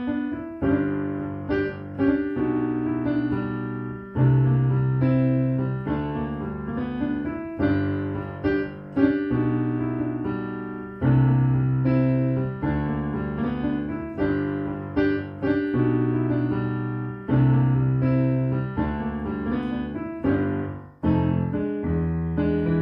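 A blues piano plays a slowed-down 1-6-2-5 chord progression with a pickup, left-hand bass under rhythmic right-hand chords, repeating for several cycles, clear and alone.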